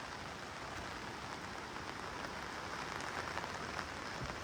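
Steady rain falls on a hillside trail during a monsoon trek up Malang Gad near Kalyan, a dense, even hiss of drops that stays constant and fairly close throughout, with no voices.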